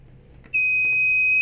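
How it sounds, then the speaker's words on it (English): After a quiet moment, a loud, piercing electronic low-battery buzzer tone switches on and holds steadily. "automatically the buzzer will start beeping"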